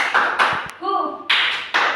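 A classroom of students claps together in a counted rhythm, sharp group claps in short bursts with a brief voiced call between them.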